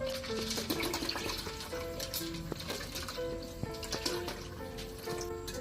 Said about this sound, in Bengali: এখন দিয়ে দেব দুই কাপ পরিমাণ পানি